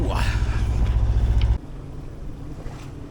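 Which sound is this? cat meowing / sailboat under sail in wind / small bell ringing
sailboat under sail in wind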